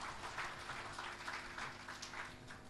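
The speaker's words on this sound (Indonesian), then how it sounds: "Tepuk tangan bagi Tuhan kita Yesus." Church congregation clapping together during a Sunday worship service, a steady, dense patter of many hands that runs throughout at moderate loudness with little else heard.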